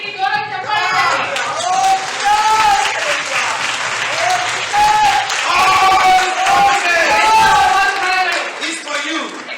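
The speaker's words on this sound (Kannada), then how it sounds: "Give a clap to God." A church congregation claps loudly together for God through the whole stretch, a dense steady roar of hands with a preacher's voice speaking over it.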